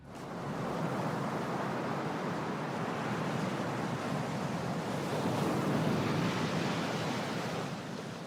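Waves wash steadily onto the Green Bay shoreline in Wisconsin, a continuous broadband roar of surf with wind, loud and sustained with no voices.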